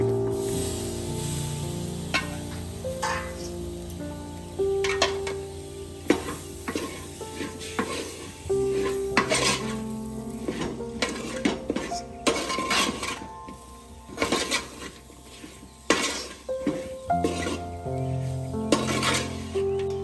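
Roasted spice masala and sliced tomato being sautéed in a pan for Kerala-style country chicken curry, with a spoon stirring and scraping in irregular bursts over a steady low sizzle.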